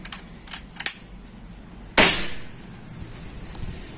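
Single sharp crack of an air rifle filled to high PSI fired close by, with a quick decaying tail, preceded by a few small mechanical clicks.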